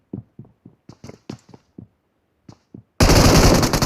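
Video game gunfight with a string of separate single gunshots heard at a slight distance, followed by a sudden loud, close burst of continuous automatic fire.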